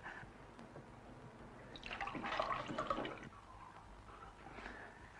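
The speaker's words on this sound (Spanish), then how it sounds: "Aquí le das al grifo y tú el agua que quieras." Water runs from a kitchen tap in a brief, soft gushing burst lasting about a second, then fades back to quiet drips and low room noise.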